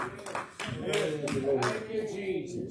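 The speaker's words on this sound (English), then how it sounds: "Give the Lord a good hand clap of praise." At a Sunday church service, the congregation gives a short burst of hand clapping in praise, several sharp claps mixed with voices and music, close and lively.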